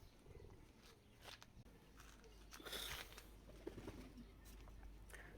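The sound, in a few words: wild pigeons cooing on the rooftop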